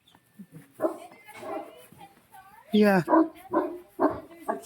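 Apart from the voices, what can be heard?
big dog barking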